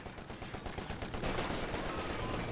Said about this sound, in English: the Grenadiers taking a long-range shot with the G43 against the sections